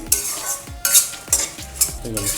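Dried red chillies are tossed in a pan, giving four or five distinct metallic scrapes and clinks of a spoon at a steady rhythm over a light background sizzle.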